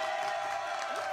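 An audience at a gig claps and cheers in a steady wash of crowd noise, with no single claps standing out.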